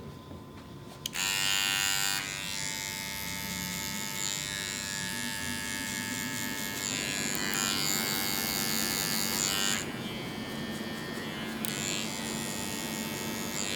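Electric hair clippers fitted with a half guard cut a fade, buzzing loudly and steadily close up through almost the whole stretch with a brief pause near the middle and no talk.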